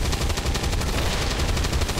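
Dense, continuous gunfire from soldiers in the XCOM 2 video game, rapid overlapping shots rattling steadily without a break, loud and close, with no voices over it.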